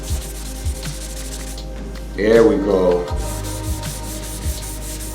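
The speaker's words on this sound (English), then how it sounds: "That's why we're using wet sandpaper." Wet sandpaper on a flat sanding block rubs over body filler during a car dent repair, with soft rhythmic strokes, one louder scrubbing pass in the middle and a short spoken remark nearby.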